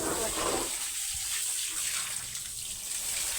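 Water rushes steadily from a tap, a continuous broadband gush filling a container, close and fairly loud, with no voices.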